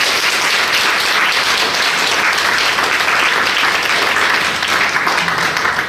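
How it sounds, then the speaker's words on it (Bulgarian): A stage audience applauding as a performer named Nikolai is invited up, loud, sustained clapping from a large crowd that stays strong and even for six seconds, tapering only slightly at the end. "Аплодисменти за Николай."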